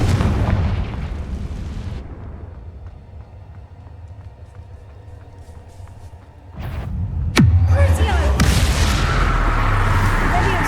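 Repeated spell blasts in the Hogwarts Legacy video game: booming bursts over rumbling game ambience, with a sharp, loud impact near the end followed by sustained crackling noise.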